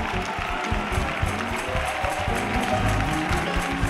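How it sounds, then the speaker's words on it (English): Church congregation clapping steadily during a worship service, a dense rhythmic patter of many hands under busy music and crowd noise, loud and continuous throughout. "Keep clapping, keep clapping."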